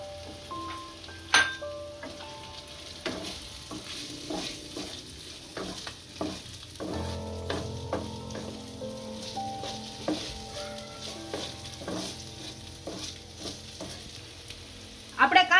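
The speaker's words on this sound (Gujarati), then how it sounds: "હવે આની અંદર આપણે લીલી ડુંગળી એડ કરીશું" Green onion sizzles loudly in a pan as it is stirred, with repeated spoon scrapes and clinks over a steady frying hiss, close up and no talking.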